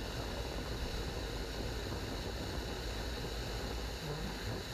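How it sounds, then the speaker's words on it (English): A 3D-printed rocket engine turbo pump at full test firing, producing about 20,000 pounds of thrust, roars as a dense, steady broadband rush without letup, heard alone. "That turbo pump we saw earlier, this is a video of it being tested along with other 3D printed parts."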